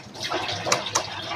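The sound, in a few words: water splashing as child rinses with water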